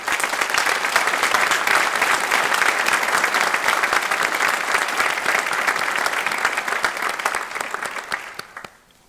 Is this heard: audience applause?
yes